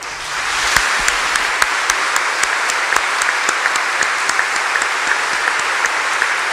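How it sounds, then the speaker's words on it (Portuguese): Sustained applause from a church congregation during a Catholic Mass installing a parish vicar, dense steady clapping with a few louder individual claps standing out, fairly close and continuous throughout. "por uma grande salva de palmas agora"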